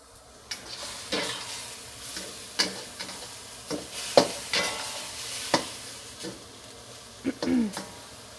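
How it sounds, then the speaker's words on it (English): Thai basil chicken stir-fried in a hot wok, with a soft underlying sizzle and regular sharp scraping strokes of the spatula every second or so, close and fairly quiet. "Okay, I have to stir."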